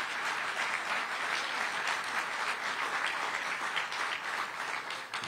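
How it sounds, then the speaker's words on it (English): An audience at a university hall dedication ceremony breaks into a steady round of applause, many hands clapping evenly for several seconds at moderate volume before beginning to taper. "That deserves a huge round of applause."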